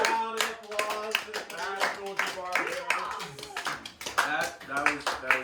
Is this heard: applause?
yes